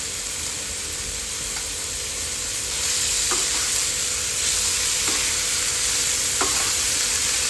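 Bitter gourd pieces are added to a hot pan and stirred, producing a loud, continuous hissing sizzle that grows fuller partway through, with a few light utensil taps and no speech.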